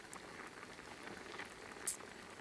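Rice simmers for sushi in a pot, giving a faint, steady bubbling hiss with soft scattered pops and one brief sharper tick near the end.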